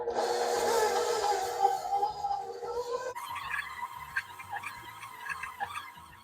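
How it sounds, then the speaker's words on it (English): Stand mixer motor whirs steadily up close while its paddle creams lard, sugar and butter for Mexican polvorones. The whine drops in pitch halfway through, and the beater knocks lightly against the bowl. "Using this attachment for your mixer or whatever you have available. Go ahead and attach, lift, and mix."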